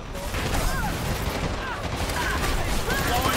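Gunfire in the Dirty Bomb team shooter, a dense, continuous wash of rapid shots and battle noise at steady loudness, with distant chatter mixed in.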